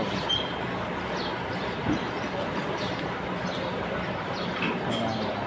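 A train rolls along the railway with a continuous loud rumble and rattle, faint high squeals and chirps showing now and then.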